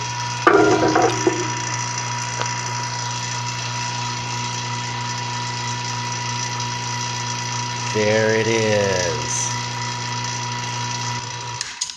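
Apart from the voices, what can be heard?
vacuum pump running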